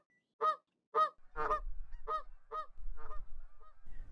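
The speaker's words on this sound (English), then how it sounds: "Once the smaller birds have settled, then the honking begins." Geese honk at night during the fall migration in a series of loud, nasal calls, a few separate honks at first, then overlapping as more birds join, over a faint low rumble.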